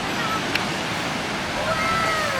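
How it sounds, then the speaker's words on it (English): Ocean waves washing over tide pools at Diguisit Beach, a steady broadband rush of surf with no speech, holding even in level and swelling slightly toward the end. "Nice waves."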